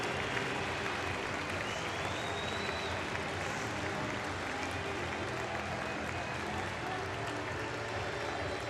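Steady applause from an ice hockey crowd at a Belfast Giants versus Nottingham Panthers game, honouring the man of the match, a continuous broad wash of clapping that holds evenly at moderate distance throughout.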